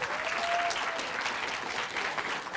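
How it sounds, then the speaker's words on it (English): An audience at a 2016 summer bridge celebration claps in steady, dense applause, moderately loud and continuous throughout, with no clear speech over it. "Give them a round of applause."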